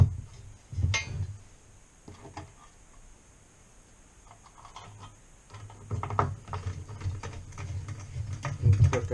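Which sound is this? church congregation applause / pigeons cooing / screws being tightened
screws being tightened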